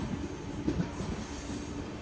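The Kochuveli–Sri Ganganagar train rumbles past at a distance, a low steady rolling with faint clacking wheels, quiet and continuous with no voices.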